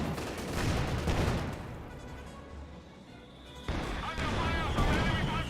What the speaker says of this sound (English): We do now have some sort of artillery barrage.